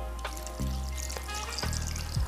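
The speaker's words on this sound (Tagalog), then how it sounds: "Dagdagan pa natin ng tubig." Water pours into a pot of beef caldereta with sauce, a close, quiet splashing trickle broken by small clunks, lasting a couple of seconds.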